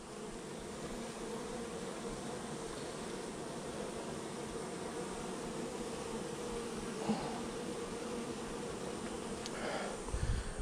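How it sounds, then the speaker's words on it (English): Honey bees buzz steadily around a hive entrance and front porch, a continuous soft droning swarm with a couple of brief closer passes near the end. "Look at these bees, very active."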